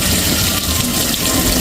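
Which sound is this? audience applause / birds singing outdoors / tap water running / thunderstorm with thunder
tap water running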